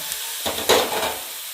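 Ginger, garlic and dried red chillies are stirred in a hot frying pan, a steady sizzle with a brief scraping swirl of the spoon, close and fairly loud, no voices.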